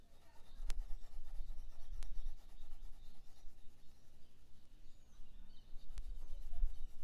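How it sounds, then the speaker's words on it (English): A pencil lightly shades on paper, making a soft, continuous rubbing scratch with a few faint taps. No one talks. "change how you hold the pencil and just shade very lightly"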